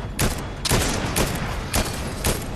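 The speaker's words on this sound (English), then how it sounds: "I'm going to shoot at him when he comes." Loud, close bursts of automatic gunfire in the video game Fortnite, several rapid volleys crackling in succession over a steady background of game noise.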